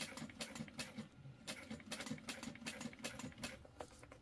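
A sewing machine stitches a crossbody bag with a soft, steady run of rapid needle taps, faint and close, with no talk.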